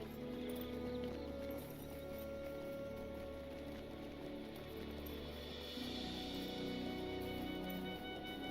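Horses in a video game clip-clop steadily, with hooves patting in a continuous rhythm over a low droning background and faint ambient tones, moderately quiet and without talk.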